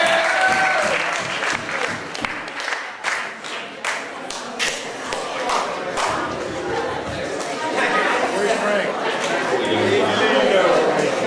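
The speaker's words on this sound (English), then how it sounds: "Everyone clap it up for Jack Urbanak and Coach Jamal." A crowd at a fundraiser claps and cheers as two guests, one a football coach, come forward. Sharp individual claps stand out at first, then merge into dense, loud applause mixed with chatter and voices.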